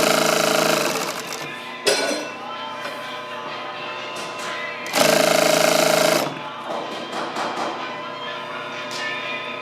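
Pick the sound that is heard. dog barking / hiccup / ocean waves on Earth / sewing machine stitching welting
sewing machine stitching welting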